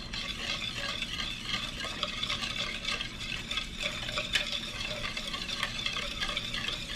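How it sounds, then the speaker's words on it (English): A whisk stirs a melted unsalted butter mixture in a bowl for cinnamon roll dough, giving a continuous, busy scraping and sloshing with faint metallic ticks throughout. "You're going to whisk all that together really good."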